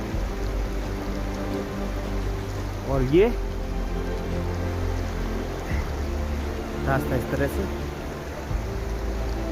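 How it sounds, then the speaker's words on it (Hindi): Steady rain patters on a Himalayan mountain trek between Govindghat and Painka village, a continuous hiss close around the listener while someone talks over it. "बारिश हो रही है, बारिश ने थोड़ा ज़्यादा परेशान किया है लगातार।"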